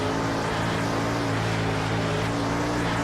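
Late model race cars roar as a pack in a World of Outlaws racing game on PS4, a loud continuous engine drone with steady layered tones and no talking.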